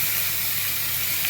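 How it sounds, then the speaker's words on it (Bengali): Fried vegetables for ghoti barir sukto tipped into a hot pan with ginger, giving a loud, steady, close sizzle with a hissing edge and no voices. "এবার আমি ভেজে রাখা সবজিগুলো সব দিয়ে দেবো।"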